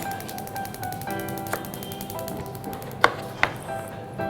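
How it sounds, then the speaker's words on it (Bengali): Okra being cut lengthwise into quarters with a knife on a board, a run of crisp close chops with a few louder strikes near the end, no talking. "প্রথমে আমরা এটা 4 ভাগ করে লম্বা লম্বি কেটে নিব।"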